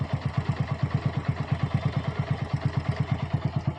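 A Hero Glamour motorcycle engine idles after tuning with a steady, even low putter of regular close pulses, smooth and without misfires, and no talk.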